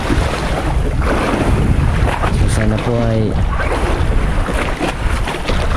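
Ocean waves and steady wind buffet a small fishing boat at sea, a constant broadband wash filling the clip, with someone talking briefly over it.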